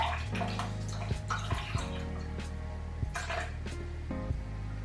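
Water splashes and trickles in short irregular pours and drips for a vegan kimchi stew, close and fairly quiet, with a low hum underneath and no talking.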